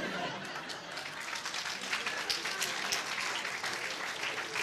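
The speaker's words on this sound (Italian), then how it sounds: "Appena scatta l'applauso, in un moment, mi sento fluiforte e ben attivo." Studio audience applauding a comedy performer on an Italian comedy show, a steady wash of clapping held throughout at moderate level with faint laughter mixed in.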